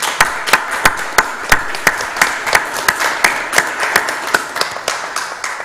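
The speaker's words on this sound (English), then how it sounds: "I would like to give a warm round of applause to our fantastic panel" A conference audience applauds a panel on security and defence: dense, steady clapping from a roomful of people with sharp individual claps standing out in a fairly regular rhythm, with no voices over it.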